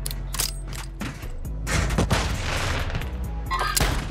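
Rapid pistol gunshots in a first-person shooter game, a dense run of sharp loud cracks in quick succession with no talking.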